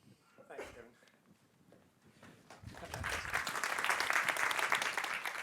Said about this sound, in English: it's good you're clapping before I speak